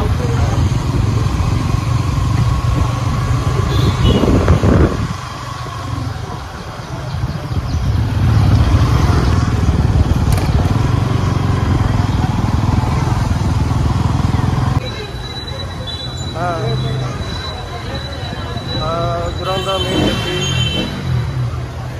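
A motorbike engine drones steadily while riding, with wind rumble and passing traffic; the engine note shifts as it slows partway through.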